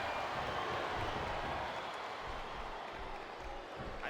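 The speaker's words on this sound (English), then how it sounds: "I think these superstars are getting some feedback from the crowd, JR." Steady arena crowd noise in the wrestling game Smackdown vs. Raw 2007, a continuous mix of cheering and faint clapping with low rumbling underneath, held at a moderate level without distinct peaks, with commentators talking over it.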